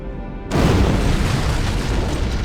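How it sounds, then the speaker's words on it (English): An antimatter charge detonates aboard a ship in Halo: Combat Evolved, a sudden loud deep boom after a quiet hum, rolling on as a heavy sustained rumble. "I'd guess an antimatter charge."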